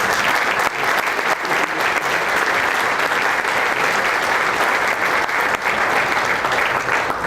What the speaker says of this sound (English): So if you'll join me in a round of applause for him.